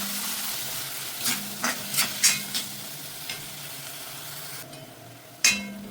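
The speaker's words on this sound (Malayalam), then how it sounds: "അരച്ച തേങ്ങ ചേർത്ത് ഒന്ന് ചൂടാക്കിയെടുക്കാം" Ground coconut and cumin paste heats in a pan for a Kerala beetroot moru curry, a steady soft sizzle with several quick scraping stirs and one sharper clatter near the end.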